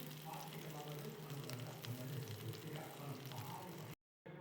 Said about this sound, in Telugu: పచ్చిమిర్చి ఫ్రై అయితేనే ఎల్లిపాయలు కూడా ఇందులోనే వేసుకోవాలి.